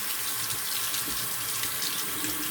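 Running tap water pours steadily into a sink as a Gillette Travel ball end tech safety razor is rinsed, a continuous close hiss and splash with no talking.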